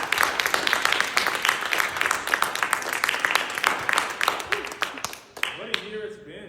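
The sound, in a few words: audience applause for students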